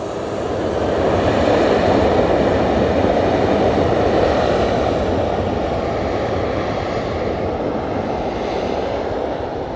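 EasyJet airliner with split scimitar winglets at Manchester Airport, its engines giving a steady, loud, broadband roar that holds evenly throughout with no voices.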